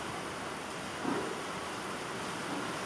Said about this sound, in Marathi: हे बघा पाऊस छान पडतो आहे